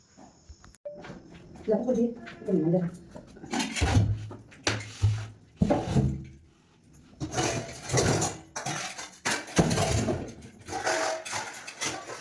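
Washed steel utensils and pots are stacked and put away in a home kitchen, with irregular clanks and clatters, some sharp and loud, while someone talks over them.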